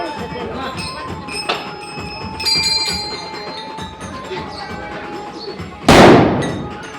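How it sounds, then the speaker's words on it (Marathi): At a festive welcome in a decorated residential colony, ringing bell-like tones fill the air until a single loud firecracker bang goes off near the end, and voices can be heard underneath. "फटाके फोडून माझं स्वागत करत आहे"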